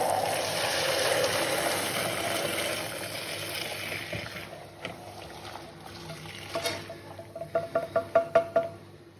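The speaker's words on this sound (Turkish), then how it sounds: "Tam 10 dakika kaynattığım hibisküs çayımı alıyorum ve süzüyorum önce." Boiled hibiscus tea poured through a strainer, a steady close liquid rush that thins out, then a run of rhythmic drips and splashes near the end.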